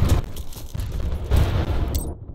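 Gunfire in the video game Bad Company 2 comes as rapid, ragged bursts with booming low-end thumps. It is loud and close, dense and continuous for about two seconds, then cuts off abruptly.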